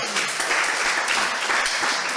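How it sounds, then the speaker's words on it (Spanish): Applause from a conference audience at a Christian youth conference in Peru, a continuous, full crowd of clapping hands at steady loudness with no gaps. "Aplauso para Cristo."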